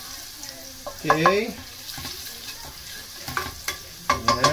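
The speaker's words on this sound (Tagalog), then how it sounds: "Lutuin na po natin mabuti ang ating bawang. Medyo gawin natin golden brown" Garlic sautés in a pan for ginisang miswa, a soft, steady sizzle with a few stirring scrapes close up, and a voice briefly speaks.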